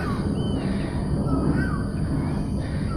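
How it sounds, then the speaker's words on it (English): A cuckoo calls from a distance outdoors near a viewing deck, its few faint, gliding notes rising over steady broadband background noise. "You can hear that that's the Asian call. It's a cuckoo bird."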